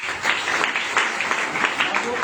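An audience at a gathering honouring guests, including a chief minister, breaks into steady, lively applause with individual claps standing out and voices mixed in.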